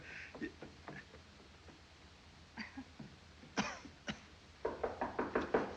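Someone knocks on a door in a 1938 film scene, a few faint taps early on and then a firmer run of about six quick raps near the end, over a soft, hissy background.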